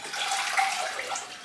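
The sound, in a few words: water being dumped out of a plant container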